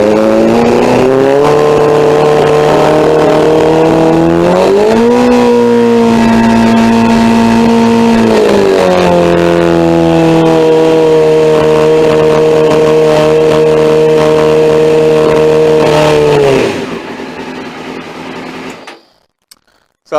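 Suzuki GSX-R 600 motorcycle engine revved and held at high revs, a loud, close, steady whine that rises in pitch twice before dropping away to near silence at the end.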